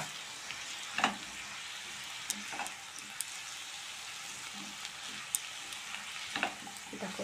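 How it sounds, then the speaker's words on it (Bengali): Vegetables frying in a pan with turmeric as they are stirred, a soft continuous sizzle broken by scattered scraping and clinking of the spoon against the pan. "এবার হলুদ দিয়ে একটু নেড়ে তারপর আবার মশলাটা দিয়ে দেবো।"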